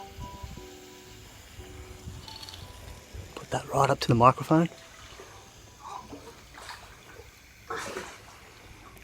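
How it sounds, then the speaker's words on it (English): Spray paint being transferred from one connected aerosol can into another gives a brief hissing, bubbling burst of a second or so, near and fairly loud, between quieter stretches where a person talks. "Can you hear that noise of it filling up?"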